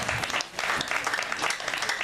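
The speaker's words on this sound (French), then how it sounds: "Voilà, ça c'est applaudi." Steady applause from an audience, a fairly soft, even patter of many hands.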